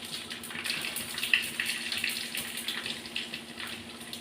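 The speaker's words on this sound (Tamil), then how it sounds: "அதே கடுகும் பொடியுது." Mustard seeds spluttering in hot oil with a pinch of asafoetida, a steady dense crackle and hiss with scattered sharp pops, close and moderately loud throughout.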